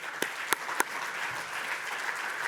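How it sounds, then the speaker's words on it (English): Applause from an audience at an electricity networks panel session and awards, honoring paper authors: a steady, dense patter of clapping with a few sharper claps standing out early on, sustained throughout with no voices. "So a round of applause for all of those people"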